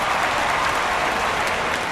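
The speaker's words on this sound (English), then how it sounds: "Cleveland fans cheer the tremendous effort by Louis Tiant." Cleveland crowd in Action PC Baseball cheers and applauds after a strong pitching effort by Luis Tiant, a dense, loud wash of clapping and crowd noise with no voices on top.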